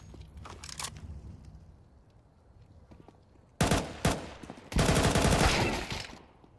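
Pistol shots in a Counter-Strike 2 match, a few faint pops early, then a loud sharp shot, a second shot and a rapid close burst, with no talking.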